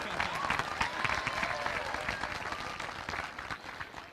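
Audience applause fills a high school graduation ceremony, steady dense clapping from a large crowd with some cheering mixed in, held at an even level for a few seconds.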